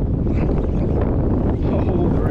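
Steady wind buffets the microphone, a loud continuous rumble and roar with no break throughout.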